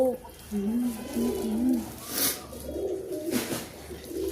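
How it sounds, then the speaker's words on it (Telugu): Pigeons coo near a house in a few soft, throaty, rolling calls, moderately close, with light household sounds and brief voices around them. "మా ఇంటి దగ్గరికి అయితే పావురాలు వచ్చాయి"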